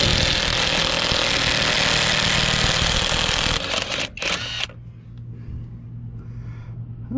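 A Harbor Freight Hercules brushless impact wrench runs on the lug nuts of a Ram 3500 Cummins, giving a loud, steady, close whir for several seconds before it cuts off and leaves a low background hum.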